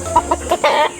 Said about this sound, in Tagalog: Hindi kalaki ang manok.